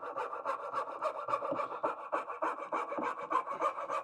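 Katz-Moses KM-19 coping saw cutting wooden dovetails, close up, with a quick, even rhythm of rasping push-pull strokes continuing throughout.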